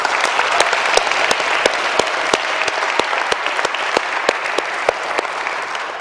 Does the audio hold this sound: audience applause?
yes